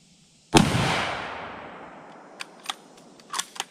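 A single sharp, loud gunshot fired by a woman shooting a gun for the first time rings out outdoors and decays slowly, followed by a few faint clicks and small knocks.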